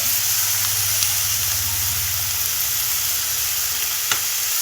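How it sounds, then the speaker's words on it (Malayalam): Dried fish stirred in a pan with turmeric, chili powder and vinegar: a steady, close frying sizzle and hiss runs throughout, with a low rumble early on and a sharp scrape of the spoon near the end. No voices. "എല്ലാം കൂടി ഒന്ന് കൂട്ടിയിട്ടൊന്ന് ഇളക്കണം"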